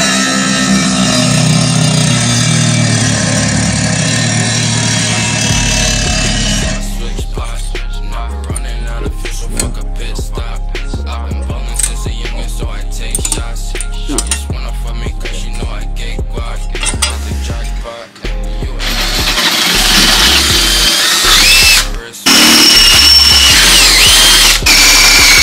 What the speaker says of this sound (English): we sanded down the little panel thingies, making them nice and smooth